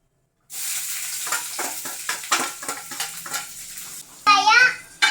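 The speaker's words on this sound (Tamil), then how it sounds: "அடுத்தது வெங்காயம் போட்டுக்கலாம்" Onions dropped into hot oil for semiya sizzle and crackle steadily, with stirring scrapes throughout and a brief brighter clatter near the end.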